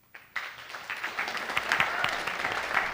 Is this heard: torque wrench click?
no